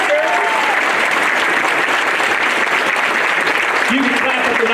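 Sustained applause from an audience at a community food festival, steady and dense across the whole stretch, with faint voices and a brief whistle-like tone mixed in.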